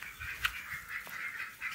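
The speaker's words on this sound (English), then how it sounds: "The ducks are glad to be back in the barn." Ducks in a barn quack and honk in a series of nasal calls, moderately close, with no talking.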